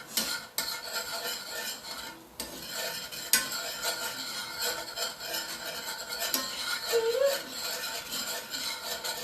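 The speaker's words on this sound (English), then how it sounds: "I'm going to grab a spoon and make sure it's mixed all in." A spoon stirs a honey mixture in a home kitchen, scraping and clinking steadily against the bowl for several seconds, close and moderately loud, with no talking.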